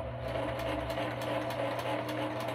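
A domestic sewing machine stitches slowly, giving a steady mechanical whir with a fast, regular needle clatter, close and continuous.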